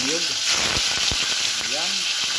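Steady frying sizzle of tulingan fish in hot oil, a constant bright hiss with brief faint voice fragments above it.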